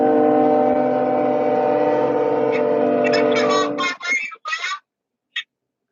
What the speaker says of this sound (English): we're about to hear the choo choo